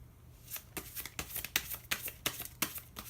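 Clow cards handled and pulled during a tarot-style reading, giving a run of about ten crisp, papery snaps and flicks in an uneven rhythm, close and fairly quiet, with no talking.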